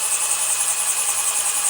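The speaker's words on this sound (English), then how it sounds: "Sometimes you can tell when you're working with a quality ceramic, because when I start to drill into it" Power drill boring into a ceramic planter from a thrift store, giving a steady, loud high-pitched grinding whine that holds without a break.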